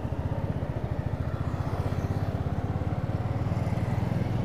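A Royal Enfield Meteor Supernova motorcycle cruises along a highway, its engine putting out a steady, low thumping drone mixed with wind rush, continuous and even throughout with no voices.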